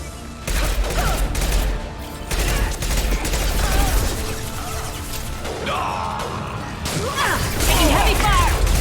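Heavy gunfire from Mass Effect 2, Archangel dossier mission on Hardcore difficulty, fills the whole stretch: loud, dense bursts and impacts, crashes and whooshes, with game dialogue and effects layered throughout.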